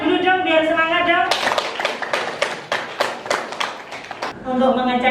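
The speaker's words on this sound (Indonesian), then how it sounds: "Tepuk tangan dulu dong biar semangat dong" A classroom of students clapping hands in a lesson: a burst of many quick, crisp claps in a loose rhythm fills the middle of the clip, bracketed by a teacher talking before and after.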